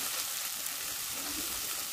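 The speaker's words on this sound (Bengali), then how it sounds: "ভালো করে একটু ভেজে নেব, পেঁয়াজের কাঁচা গন্ধটা যে এই পর্যন্ত না যায়।" Onion paste frying together with ginger-garlic paste in a pan, giving a steady, soft broadband sizzle that holds evenly throughout with no speech over it.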